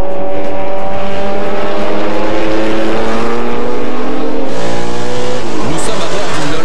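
A Lola T70 race car at Le Mans Classic 2006 roars at full throttle, its engine note climbing steadily with harmonics rising in pitch, loud and sustained with a sharp shift near the end.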